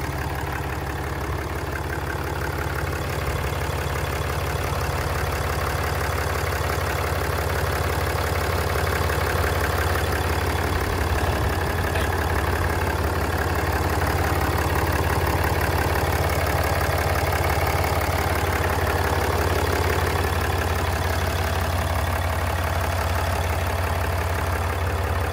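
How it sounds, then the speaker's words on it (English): A fully stock 2015 Ram 3500 truck with a brand-new turbo idles steadily, a loud, constant low engine drone that holds unchanged for the whole stretch with no talking over it. "She's a healthy engine."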